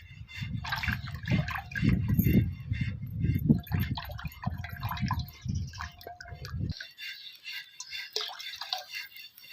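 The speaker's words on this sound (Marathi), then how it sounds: "असं पाणी घालत घालत मोडायचं" Water is poured in while thick yogurt is stirred and whisked, wet sloshing and dripping, then a quieter trickle as the stirring stops.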